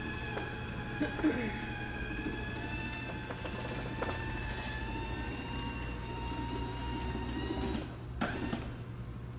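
An electric RV awning motor retracts the awning fabric with a steady, droning mechanical whine and hum. Faint clicks and rustles appear along the way, ending in a brief louder clatter near the end.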